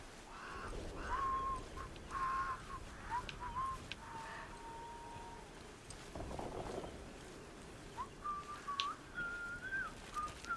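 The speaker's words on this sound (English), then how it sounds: "Where's this whistling guy at?" Faint melodic human whistling from an NPC in the video game Atomfall, short phrases sounding on and off over quiet ambient background with occasional crow caws.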